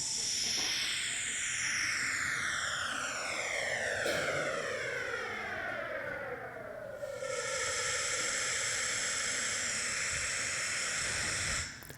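A sonification of the first 10,000 years of the universe after the Big Bang: a roaring, hissy wash with descending sweeping tones that glide downward, then a brighter sustained band before cutting off, no voices.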